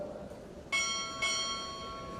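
Two ship's bell strikes sound at a Navy Chief Petty Officer pinning ceremony at Recruit Training Command, a pair of sharp metallic rings about half a second apart, each sustaining a bright shimmering tone that decays into the quiet room.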